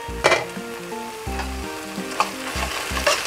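Tomato and onion soften in a pan for a drumstick leaf kootu, giving a close, steady sizzle with a few sharp spoon scrapes and stirs against the metal, and no voices.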